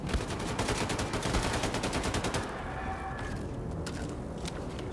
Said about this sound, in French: Bon, c'est pas tout à fait une batteuse, mais ce fusil d'assaut.